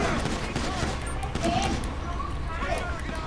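Pistol gunfire in the GTA Online video game crackles in rapid, overlapping shots throughout a dense, busy game soundscape, while players talk over it.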